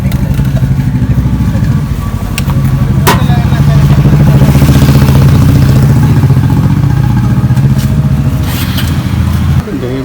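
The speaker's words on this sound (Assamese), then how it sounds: "1500 cc বাইক আছে ইয়াতে" A 1500 cc motorcycle engine runs nearby with a loud, steady low rumble and clatter for ten seconds, mixed with people talking close by.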